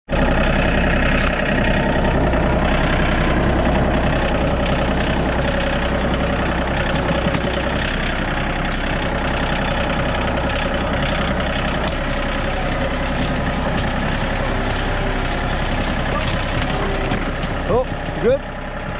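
A tractor engine runs steadily at idle in the woods, a loud continuous low rumble holding throughout with a few brief mechanical clanks near the end.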